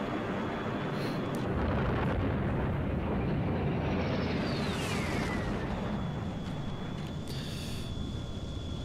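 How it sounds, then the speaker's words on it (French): A deep, roaring film explosion effect from the movie Aliens rumbles loudly and continuously, with a sweeping high whine passing through midway and a faint tone lingering. "Explosion."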